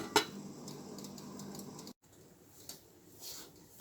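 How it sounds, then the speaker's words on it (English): A lid set back onto a cooking pot of Jamaican-style chicken soup with pumpkin gives a single sharp metallic clink near the start, followed by quiet kitchen room tone. "Cover back the pot."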